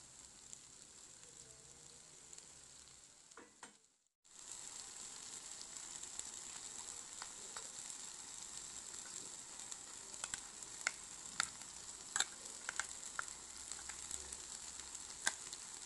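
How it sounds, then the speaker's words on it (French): Potatoes with hot chili cook in a covered pan, a soft steady sizzle with scattered crackles and pops throughout, faint and continuous after a brief moment of silence. "je mets le couvercle et je laisse le tout cuire et ça ne prend que quelques minutes"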